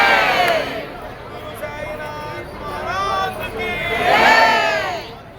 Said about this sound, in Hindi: वैसे वैसे साईं भक्तों की भीड़ भी बढ़ती जाती है